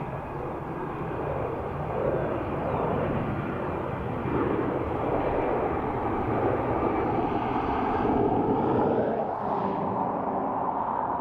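ATR turboprop airliner arriving from Donegal at Dublin Airport, a steady broadband engine roar holding at moderate loudness throughout and swelling slightly near the end as it comes in.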